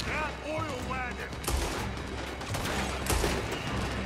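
Gunfire in the video game Red Dead Redemption 2 during a shootout, with repeated sharp shots and bursts over a background rumble while someone shouts at the start.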